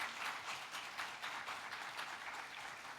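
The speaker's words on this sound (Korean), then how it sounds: "박수로 축하해 주시면 감사하겠습니다." A church congregation applauds during a Sunday service flower presentation, steady soft clapping heard from a distance, continuous across the short stretch with no talking over it.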